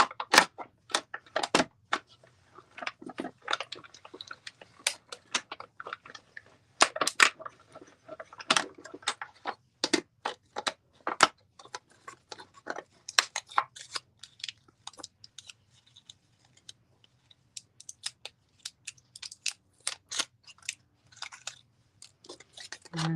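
Scissors cutting paper for a handmade floral card, a long series of sharp, irregular snips and crisp crunches, close and clear against a quiet background.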